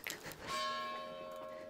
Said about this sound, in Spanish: ¿Cómo es posible que el timbre suene como las campanas de la iglesia?